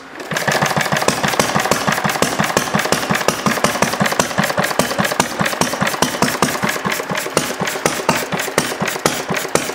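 A small engine with a glass cylinder head runs steadily right after the ignition is switched on, giving a fast, even train of close, loud firing pulses with a mechanical knocking edge.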